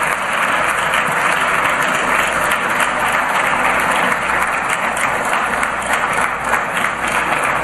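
A large crowd applauds Haitian President Jovenel Moïse and First Lady Martine Moïse at an official launch event, with loud, dense, unbroken clapping and a faint crowd murmur.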